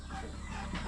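Chickens clucking in a backyard coop in the Philippines, a steady dense murmur of hens close by with no pauses, loud and continuous throughout.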